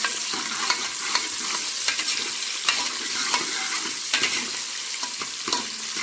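Chopped onions and curry leaves fry in hot oil in a pan, a bright continuous sizzle with intermittent stirring clicks and scrapes, close and fairly loud, with no talking.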